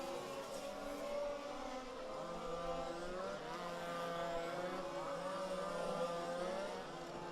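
Fifth-scale 4WD spec RC race cars, including a BMW and an Audi, run at a club race, their small engines whining and droning together in a steady, fairly distant buzz with shifting pitches and no talking.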